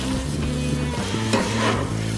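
Meat sizzling on an outdoor grill, a continuous close crackle and hiss over a low steady hum, heard alone.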